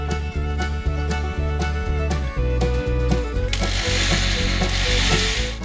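A screw being driven into a fitting on a DIY kayak with a ratcheting driver, rapid mechanical clicking and whirring with rhythmic grinding pulses, close and continuous.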